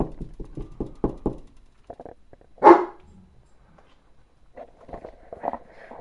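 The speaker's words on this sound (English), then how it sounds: "that little dog has a big voice" A small dog lets out a single loud, sharp bark near the middle, between stretches of quieter thumping and knocking sounds, indoors during a midwest blizzard.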